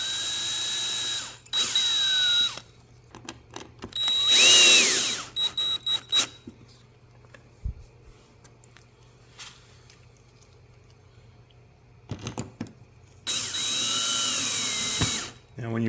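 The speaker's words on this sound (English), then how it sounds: "I'm going to drill a little pilot hole." A power drill bores a small pilot hole for a side marker LED light on a Denago Rover XL, in several short high-pitched whirring bursts separated by quiet pauses.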